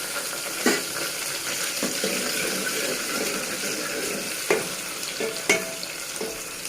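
Tomatoes and green chillies fry in a pan with a steady, bright sizzle. A few sharp stirring knocks cut through it, heard up close.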